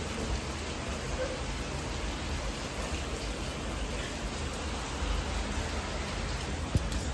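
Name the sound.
heavy rain falling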